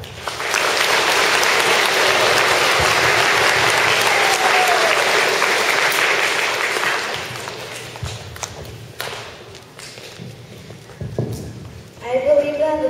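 An audience at a school assembly bursts into loud, dense applause that holds steady for several seconds, then thins into scattered claps and fades as a voice begins speaking.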